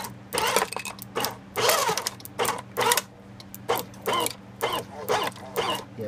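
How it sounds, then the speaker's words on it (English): A cheap plastic shredder grinds failed 3D prints, with loud, close bursts of clattering, crunching grinding that start and stop in an uneven rhythm over a steady motor hum. "Time to start grinding."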